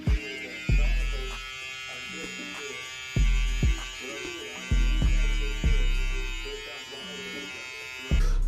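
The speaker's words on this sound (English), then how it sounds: "So what I do is I want to use the corner of my clipper." Electric hair clippers buzz steadily and loudly at close range while cutting off dreadlocks in a first self haircut, with the motor pitch dipping and recovering in repeated strokes as the blades bite into the hair.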